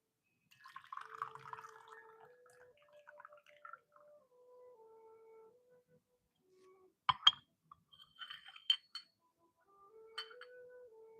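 Water poured while brewing Chinese oolong tea, with soft trickles and drips, a few sharp clinks of porcelain or glass teaware, and gentle background music, quiet and close.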